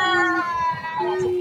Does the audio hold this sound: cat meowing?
yes